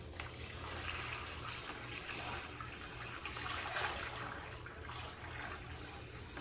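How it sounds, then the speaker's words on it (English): Water poured steadily from a pitcher into a Ziploc bag, a continuous close splashing and trickling stream that stays even throughout, with no talk. "pour that water into the bag. Carefully."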